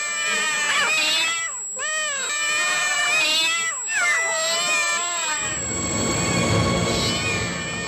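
Several cats yowl and meow in long, wavering, high-pitched cries, loud and close, reacting to a high-frequency sound, followed by a rougher, noisier caterwaul toward the end.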